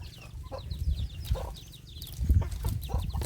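Chickens cluck close by in a rural Thai farmyard, soft repeated clucks and short calls over a low rumbling background.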